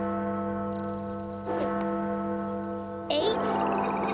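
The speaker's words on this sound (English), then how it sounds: "Is that the town clock? Since when does it have a bell?" A town clock bell in a children's cartoon strikes for noon, two resonant metallic chimes landing about a second and a half apart over a steady low sustained tone, fairly close and clear.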